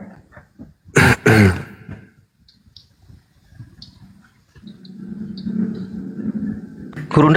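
A person with a cough and cold coughs twice in a loud, close burst, then softer throat sounds and faint clicks follow in a quiet room.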